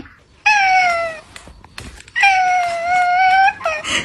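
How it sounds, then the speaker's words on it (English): A cat gives two long, loud, drawn-out meows close by, split by a short pause with faint rustling, then a quick short chirp at the end. "You have the cutest little meow."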